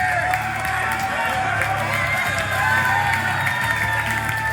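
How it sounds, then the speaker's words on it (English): Spectators at a Mortal Kombat X fighting-game tournament cheer, clap and shout in a steady, dense wash of noise over a low hall hum, with no single voice standing out. "you can hear the crowd. They're into it. They are going nuts."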